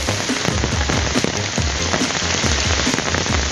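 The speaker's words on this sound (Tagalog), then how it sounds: "Nay ulan, basa na." Steady heavy rain pattering on a surface close by, a dense continuous hiss with scattered sharper drops and no voices.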